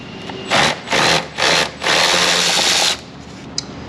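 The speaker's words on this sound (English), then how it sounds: "these screws that are inside the airbox that he's removing right now" A power driver spins out the four T25 Torx screws holding the plastic airbox lid on a MINI Cooper, sounding in four close, loud whirring bursts, the last one longest, followed by a faint click.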